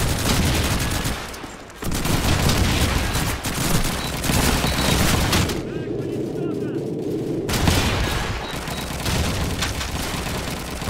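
Dense bursts of rifle and machine-gun fire from Call of Duty 2 multiplayer crackle almost without pause, broken by a brief lull, with voices heard among the shots.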